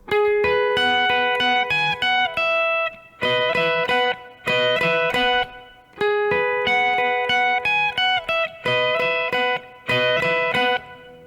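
An electric guitar plays a riff, with bright picked notes in repeating phrases separated by short gaps, loud and close with no talking.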